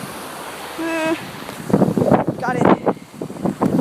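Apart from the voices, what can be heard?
strong wind outdoors by a waterfall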